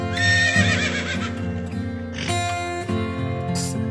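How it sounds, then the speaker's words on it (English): A horse neighs loudly and close in a children's phonics song, a long shaking whinny with harmonic trills, followed by a shorter second whinny, with no talk over it. "H for horse."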